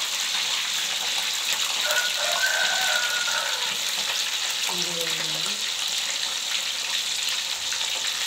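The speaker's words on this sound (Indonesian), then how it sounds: "jadi kita menggoreng bakwan" Bakwan vegetable fritters fry in hot oil with a constant crackling sizzle close by, joined by brief clinks and stirring noises partway through.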